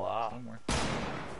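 A sniper rifle shot cracks out sharply in a multiplayer battle video game, a single loud report with a decaying tail, following a brief bit of talk.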